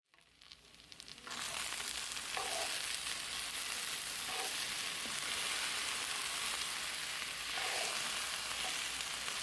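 Okra and potatoes fry in a pan on medium heat, a loud continuous sizzle bursting up suddenly as the mixture is stirred, with occasional scraping of the spoon through the vegetables.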